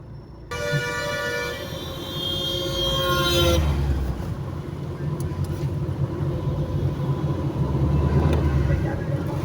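Roadside traffic at the Utkoor junction main road opens with a long, loud horn blast, then a steady rumble of passing vehicles, with someone speaking nearby.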